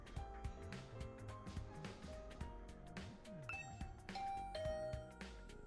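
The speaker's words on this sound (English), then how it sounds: "I rang the doorbell to Tsubasa's room." A doorbell chimes in the video game The Hundred Line Last Defense Academy, soft ringing tones sitting among game music and ambient effects, faint and brief.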